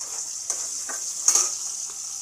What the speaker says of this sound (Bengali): রসুন, গোটা রসুন দিয়ে দিলাম, ভেজে নেবো